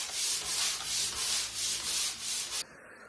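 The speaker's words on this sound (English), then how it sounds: "I do believe I'm going to need to use our electric sander on this wall." An electric sander works across a wall during a countryside house renovation, giving a loud, steady broadband hiss that swells and fades in regular sweeps before cutting off abruptly near the end.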